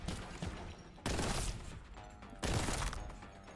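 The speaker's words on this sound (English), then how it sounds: "Are you guys, like, shooting me?" Bursts of gunfire in Warhammer 40K: Boltgun, two sharp heavy volleys opening abruptly about a second and a half apart, each rattling off into a fading tail, fairly quiet overall with no talk.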